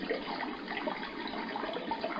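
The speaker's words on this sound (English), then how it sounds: "it looks like we got some ocean sounds, some waves" A steady, even wash of hissing noise like rolling ocean surf from a sound machine, continuous and close without distinct breaks.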